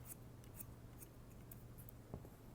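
Barber's scissors cutting a section of hair at the top: a few soft, quick snips over faint background hiss, close but quiet, without talking.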